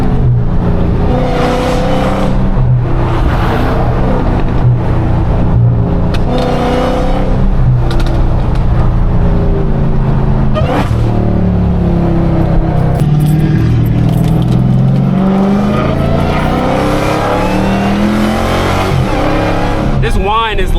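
Supercharger whine from a hoodless Dodge Hellcat driven at night, a loud continuous engine drone with a rising whine throughout, under someone talking.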